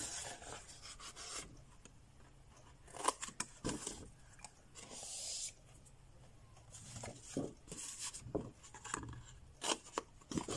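Scissors snip through paper for a Easter gift box, cutting at a slight bevel: a few quiet, close scraping cuts and rustles spread across the stretch, with no talking.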